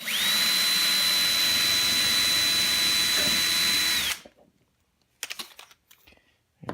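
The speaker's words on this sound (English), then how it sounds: "So I'll use a small drill bit." A power drill with a small bit bores into a homemade phone cradle, whining loud and steady at close range for about four seconds before stopping, followed by a few faint handling clatters.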